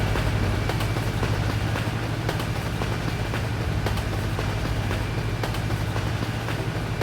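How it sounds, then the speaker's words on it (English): A train rolls past in Euro Truck Simulator, a steady loud rumble with rhythmic clickety-clack of wagons on rails and a low engine drone running alone for the whole stretch. "Oh my god, we're actually racing a train here."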